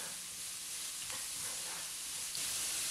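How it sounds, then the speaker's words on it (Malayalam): Finely chopped carrot sautéing in a pan gives off a steady, close sizzle and hiss for about three seconds, slightly louder toward the end, with no talking. "അപ്പോൾ ജസ്റ്റ് ഒരു 1/2 മിനിറ്റ് ഒന്ന് വഴറ്റി കൊടുക്കുമ്പോൾ തന്നെ അത് വാടി കിട്ടും"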